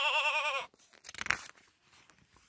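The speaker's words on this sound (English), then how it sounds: "The lamb is a baby sheep." A lamb on a farm gives a single loud, wavering bleat lasting about half a second, followed by faint crunching and rustling.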